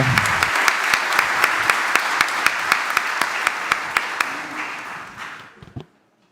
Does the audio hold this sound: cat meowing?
no